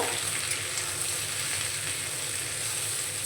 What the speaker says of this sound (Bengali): সবজিগুলো দিয়ে 2 থেকে 3 মিনিট নাড়াচাড়া করে নিয়ে